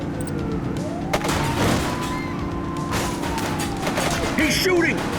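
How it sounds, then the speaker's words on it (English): Rapid gunfire in the police video game The Precinct crackles in short bursts while a siren wails and sweeps steadily underneath, with car engine noise throughout. "He's shooting!"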